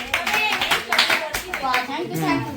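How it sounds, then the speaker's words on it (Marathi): A small group at a home gathering clapping for a contestant, with bursts of hand claps mixed in with children's and adults' voices talking over them, close and lively. "याच्यासाठी टाळ्या वाजवा."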